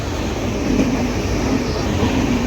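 Steady rumbling drone inside a moving passenger train, with the continuous rolling noise of the carriage close and loud and no voices rising above it.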